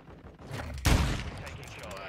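Gunfire in Call of Duty Modern Warfare II: a single sharp, loud shot bursts midway through low game noise, with a voice speaking around it.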